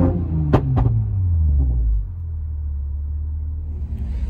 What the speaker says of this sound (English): Now we start a little rev off.